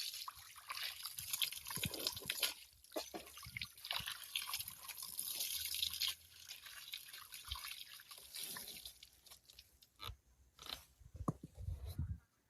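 Water trickles and drips with a splashy, uneven hiss that rises and falls, fairly quiet and close, with occasional sharper drops and no voices.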